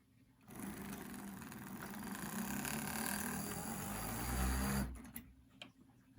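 A Westside Brass D&RGW Challenger model locomotive powers up and runs on its track with a continuous whirring motor drone that rises gradually, then cuts off abruptly, followed by a few faint clicks.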